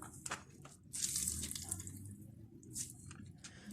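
Grated carrots are squeezed by hand to press out their water for carrot and almond kebabs, giving soft wet squelching and dripping trickles at close range, without speech.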